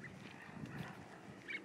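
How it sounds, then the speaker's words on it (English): Ducks squabbling during a walk along the Arakawa river in Japan give faint, scattered honking quacks over a soft outdoor background, with a sharper call near the end. "Are we in the middle of a duck fight?"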